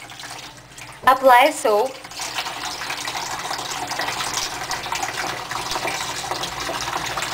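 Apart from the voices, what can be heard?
water running from a tap while washing hands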